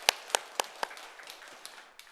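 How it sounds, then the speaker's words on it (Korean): A few crisp hand claps land in a quick, even rhythm during a church worship service, followed by softer scattered claps trailing off. "우리 그리하여 주실 하나님께 영광의 박수 올려드립니다."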